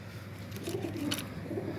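Pigeons cooing in a loft during vaccination, a soft, steady low murmur of overlapping coos that runs throughout at moderate volume with no talk.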